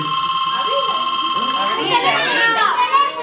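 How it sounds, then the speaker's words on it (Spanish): A telephone rings with a steady electronic tone during a children's puppet show, sounding for about two seconds before fading as children's voices rise and chatter over the scene. "les debe estar sonando el teléfono a ustedes"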